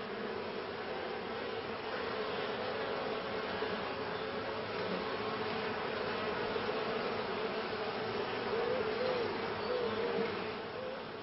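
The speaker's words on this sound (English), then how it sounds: "Bees communicate with each other by means of a dance language." Honey bees buzzing inside a hive, a dense, steady drone of many wings that carries on without pause throughout, close and even in loudness, with no voices.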